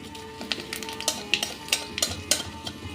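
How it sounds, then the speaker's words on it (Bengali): Dry red chillies and nigella seeds frying in hot mustard oil make a soft sizzle broken by sharp crackles and pops at irregular intervals, close by. "শুকনো লঙ্কা ও কালো জিরেটা খুব ভালো করে ভাজা হয়ে গেছে।"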